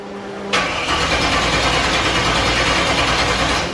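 A 1968 Camaro engine cranks briefly and catches while being given gas, then settles into a loud, steady, rumbling idle up close, with no talking over it.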